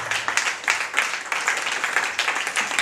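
A church congregation applauds during a worship service, a dense, steady wash of many hands clapping with irregular peaks, fairly close and continuous for a few seconds.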